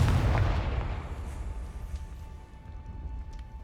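A Confringo spell from Hogwarts Legacy bursts as a heavy, booming explosion that hits hard at the start and then rumbles and fades away over a few seconds.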